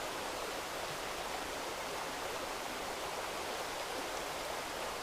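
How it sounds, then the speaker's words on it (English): A serene wilderness river flows steadily in the Cranberry Wilderness, a dense, continuous rushing wash of water that stays loud and even throughout, with no voices. "It's hard to hear over the sound of this serene river"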